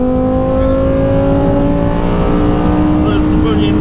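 Lamborghini Huracan Performante with a naturally aspirated V10 at full, loud roar, pitch climbing steadily as the engine revs up through the rev range from inside the car.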